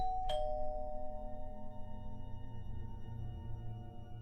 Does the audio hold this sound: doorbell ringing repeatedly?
yes